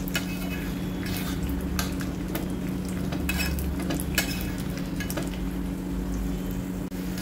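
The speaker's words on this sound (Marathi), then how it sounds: "शेंगदाणे भाजताना सतत हलवत राहायचं आहे आपल्याला।" Peanuts roasting in oil in a pan over a medium flame are stirred continuously, giving a steady close sizzle with scraping and rattling strokes of a spoon against the pan, and no talking.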